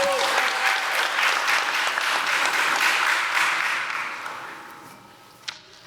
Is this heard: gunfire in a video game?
no